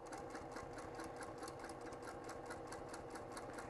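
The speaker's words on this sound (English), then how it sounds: "So we're just going to go ahead and top stitch this right along the edge." A sewing machine top stitches along the edge of a fabric circle on a 3D circle quilt wall hanging, running in a steady, fast, even rhythm of needle strokes with a continuous motor hum, close and alone.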